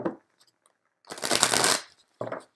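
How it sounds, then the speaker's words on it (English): A deck of tarot cards is shuffled close by: a brief riffle, then a longer loud flurry of cards slapping together, then a short final burst, with no talk. "One more good shuffle."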